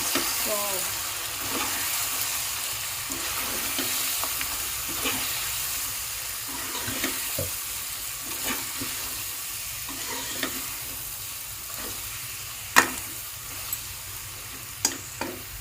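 Chicken with chili powder fries in a pan, a steady hiss and crackle overlaid with scraping and stirring knocks from a utensil, plus a few sharp clinks near the end.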